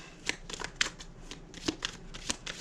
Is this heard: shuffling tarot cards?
yes